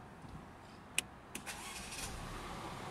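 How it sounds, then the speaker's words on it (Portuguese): A Mercedes C180 engine starting up, a short crank followed by a steady, quiet idle, heard nearby with no talking. "Vamos agora virar o motor e ver como é que tá."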